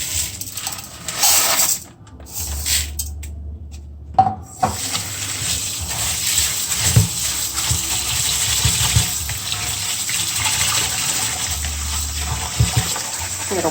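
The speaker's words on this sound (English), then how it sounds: "So the water is white, you just want to rinse the rice." Running water pours and splashes steadily while two and a half cups of rice swish and rattle in a pot as they are rinsed, with brief pauses and a few clinks.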